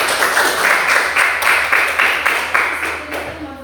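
An audience applauds after a short talk, with rhythmic clapping that starts out fairly even and thins toward the end, while a hum runs underneath.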